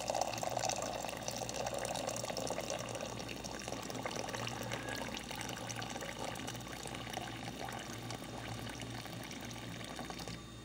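Hot water being poured for a honey drink, a steady, faint, continuous pouring rush that runs evenly throughout without pause.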